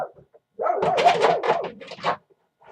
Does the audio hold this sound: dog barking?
yes